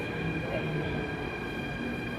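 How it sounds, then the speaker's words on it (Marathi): Steady hum of a large metro train idling at a station in Greece, with a constant tonal whine and a low murmur in the background. "बरीच मोठी मेट्रो आहे म्हणजे आपल्या ट्रेन सारखी मेट्रो आहे"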